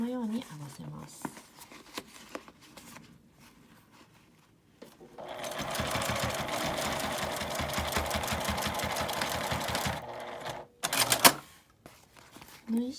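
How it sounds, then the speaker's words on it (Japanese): A sewing machine runs in a steady rapid stitching burst of about five seconds, topstitching the edge of a zippered fabric toilet paper case, with quieter handling rustles and short stops before and after. "縫い代を内側に倒して端ミシンをかけます。"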